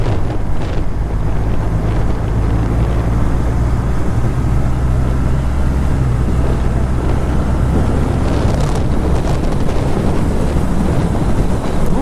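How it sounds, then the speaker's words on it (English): Steady wind blowing outdoors at Lac Simon, buffeting the microphone with a constant low rumble that lasts throughout, loud and unbroken with no talk. "That wind."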